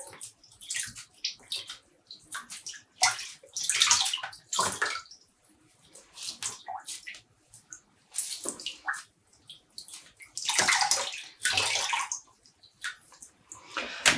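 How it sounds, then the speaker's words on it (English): Freshly dyed yarn is wrung out by hand, giving repeated bursts of squelching, splashing water and trickling drips, close up, with brief quiet gaps between the squeezes. "And squeezing out the water."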